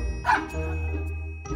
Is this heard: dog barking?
yes